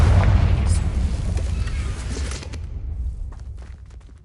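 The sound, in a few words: Confringo blasting spell in a Harry Potter video game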